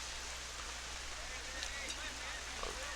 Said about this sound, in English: this rain is also very cold. It's not just any kind of regular rain.